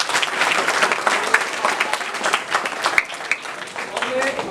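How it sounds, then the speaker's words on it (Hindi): An audience claps at a school drama workshop at Government High School Habibganj, Bhopal. The applause is close and steady for a few seconds, with a voice talking over it. "तो तालियां बजाइए लोग के लिए।"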